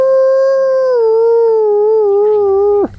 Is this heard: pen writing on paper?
no